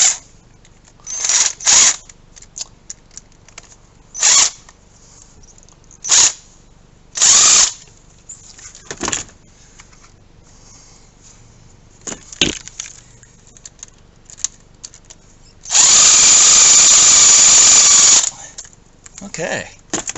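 A power drill tightens a hose clamp on an oil catch can kit for a 2018 Ford F150 EcoBoost, firing in several short loud bursts and one longer run, with quiet gaps and handling clatter between.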